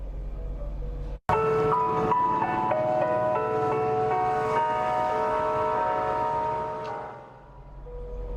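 Classical music plays from speakers mounted on a pole at a strip mall intersection, sustained melodic tones heard outdoors over traffic hum, briefly cut by a sharp click and fading near the end.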